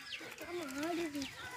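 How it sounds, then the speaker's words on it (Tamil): Chickens clucking and calling nearby in a smoky outdoor cooking area, a few drawn-out, wavering clucks rising and falling over faint background noise. "இங்க பாருங்க, கோழி எல்லாம் இங்க எப்படி நிக்கி பாருங்க."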